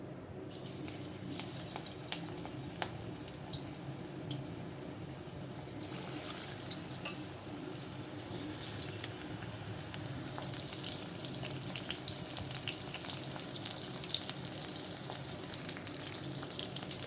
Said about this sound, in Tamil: இப்போ வந்து நம்ம ஒன்று ஒன்று போட்டு பொறிச்சு எடுத்துக்கலாம்